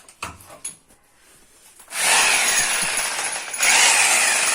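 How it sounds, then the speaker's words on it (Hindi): An electric drill bores holes into a wall for mounting an LG LED TV. It starts with a few light knocks, then gives a loud, harsh grinding whine that pauses briefly and resumes, close by. "फिर ड्रिल मशीन का लाइन दे दिए।"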